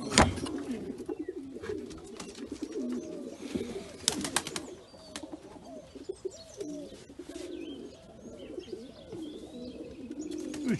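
Pigeons, a male and a female with white backs and a flock of assorted colours, coo softly and repeatedly in low rolling calls. A few faint chirps and light rustling come in between, and no one speaks.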